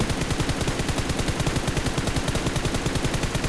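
Continuous rapid automatic fire from an M4 rifle in PUBG Mobile, loud and close, a steady unbroken burst of shots with no voices.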